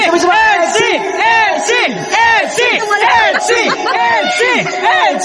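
A crowd at a second-anniversary celebration screams and cheers in loud, repeated bursts of high shrieks and whoops, packed close together with voices overlapping.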